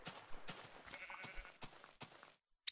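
A sheep in the Minecraft Tekkit modpack gives a few short bleats at moderate loudness, repeated at irregular intervals over faint game ambience, with no talking.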